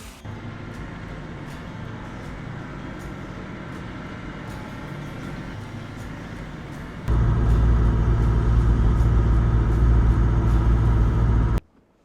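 A 4x4 car drives across sandy Moreton Island. The steady engine and road rumble continues, grows louder and heavier about two-thirds of the way through, then cuts off abruptly near the end.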